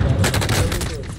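Rapid bursts of gunfire in Call of Duty Warzone on the Rebirth map, a dense volley of close shots rattling in quick succession with faint voices mixed in.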